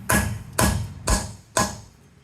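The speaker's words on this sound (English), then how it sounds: "normally when you have a seized nut, you can normally just put your socket in and you can just hammer it." A hammer strikes a socket fitted over a seized wheel nut on a car, four sharp metallic blows at an even pace, close and loud, each ringing briefly before the next.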